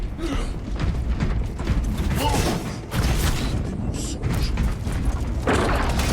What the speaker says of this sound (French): Je lance une grenade choc.